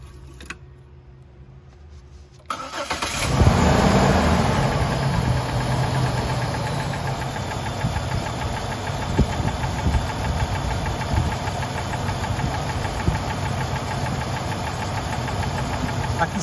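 Engine of a 190k-mile motor ticking and knocking at idle after starting, a constant rough mechanical rumble with fine rapid ticks layered throughout, close and steady after a quiet opening.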